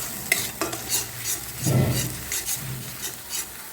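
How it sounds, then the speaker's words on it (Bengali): Ground tomato paste is stirred into a sizzling spice masala for a Bengali rui fish curry, giving a close, soft frying hiss with scraping spoon strokes and a louder burst of sizzle midway. "এবার এখানে আমি দিয়ে দিচ্ছি বেটে রাখা টমেটো। এটাকেও ভালোভাবে কষিয়ে নেবো"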